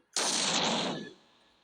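A single loud, sudden explosive burst that rings out with a broad roar for about a second before quickly dying away into quiet.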